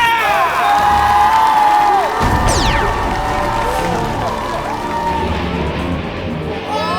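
A studio audience on a Korean TV entertainment show cheers and whoops loudly as a crowd, with sweeping sound effects over the noise and little distinct talk.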